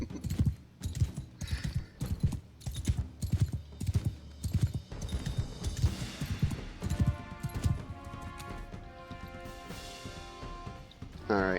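Horse hooves clip-clop in a steady, rapid rhythm in the Mount & Blade II: Bannerlord game, loud and close, with a horse whinny and a swell of music joining later.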